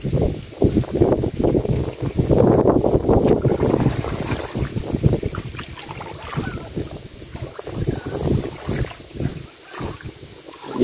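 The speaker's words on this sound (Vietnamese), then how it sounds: "Gió hay quá, gió luôn." Wind gusting outdoors in a garden, a loud buffeting rush over the microphone that rises and eases for about eleven seconds, with no clear speech.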